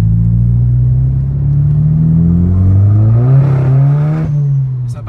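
A 400hp Polo R WRC Stage 2+ rally car spinning its wheels while accelerating uphill in second gear through a hairpin, a loud close engine drone rising and dipping in pitch as the revs climb, with a brief clatter near the end.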